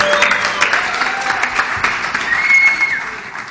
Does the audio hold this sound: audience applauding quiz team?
yes